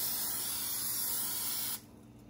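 An aerosol can sprays in a long, steady hiss at close range while Sunday dinner is prepared, cutting off sharply near the end with no talking.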